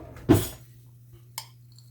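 A spoon knocks against a dish while corn goes onto foil hobo packets of cabbage and bacon: one sharp clink up close, then a lighter tap about a second later.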